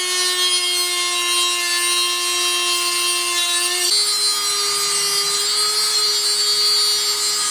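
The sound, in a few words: Dremel rotary tool cutting hoses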